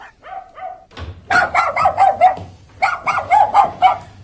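Several dogs bark in a staged radio crime drama: a few short yaps first, then two dense bursts of rapid, overlapping barking, loud and close.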